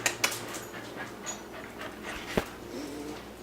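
A puppy pants in quick, soft breaths close by, with a few faint whimpers and sharper yips breaking through the steady huffing.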